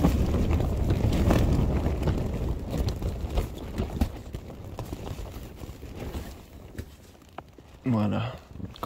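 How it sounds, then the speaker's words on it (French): Strong wind buffets the microphone at a mountain lake, a loud, continuous rumbling roar that fades somewhat later, with a voice speaking near the end. "C'est tôt, c'est un peu normal qu'il y a beaucoup de vent."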